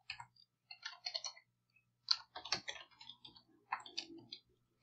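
Keys on a computer keyboard are typed in quick, uneven bursts of crisp clicks with short pauses between them while a function is entered into Desmos, close and quiet with no voices.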